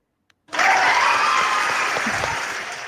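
A crowd claps through a livestream, starting abruptly and holding as a dense, steady wash of applause that fades slightly toward the end, with no talk over it.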